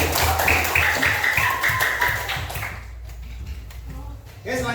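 Classroom group applause at a school session, dense overlapping clapping from many hands fading out over a few seconds, with voices mixed in and a brief voice rising at the end.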